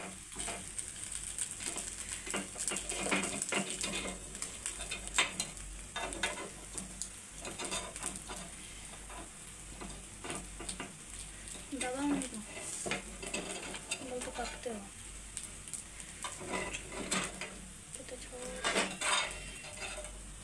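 Rava ponganalu, semolina fritters, sizzle and fry in a pan while a spoon repeatedly scrapes and clinks against the metal to turn them, steady crackling under intermittent tapping, with no talking.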